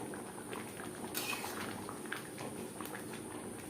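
Katla fish curry with taro simmering gently in gravy in a pot, a soft continuous bubbling and patter with faint small pops, steady and fairly quiet, with no voices.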